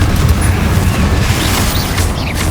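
Confringo explosive spell in Hogwarts Legacy, a heavy booming blast that rolls on for a couple of seconds, loud and thick in the low end with faint magical whooshes above and no speech.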